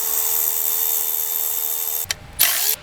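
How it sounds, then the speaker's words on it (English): A power tool whirs steadily at close range, working loose the oil cooler bolts on a 3.2 or 3.6 Pentastar Jeep Cherokee engine, then stops abruptly with a brief second burst near the end. "we can break all of these oil cooler bolts loose now"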